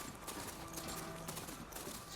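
A horse mount in the video game Horizon Forbidden West, its hoofsteps making a soft, rapid clip-clop at a steady gait under a constant wash of game ambience, faint throughout and with no talking.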